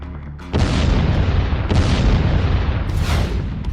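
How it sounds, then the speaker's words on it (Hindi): Iranian ballistic missile strikes hit Beersheba, with loud, sustained roaring booms from several blasts in quick succession that overlap into a continuous rumble with no talk. "ईरान के बैलिस्टिक मिसाइल हमलों से दहल उठा बेरशेवा"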